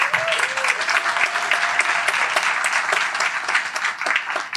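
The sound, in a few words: audience applause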